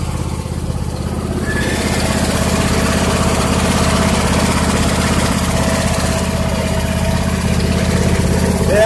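A 2007 Husqvarna YTH2454 riding lawn mower runs after starting with the choke pulled: a loud, close, steady engine drone with a low throbbing idle, holding even for nearly nine seconds with no speech.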